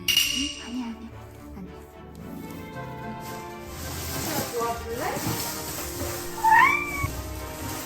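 A cat hanging on a Christmas tree gives a few short, rising meows near the end, over rustling and scraping, with voices in the room.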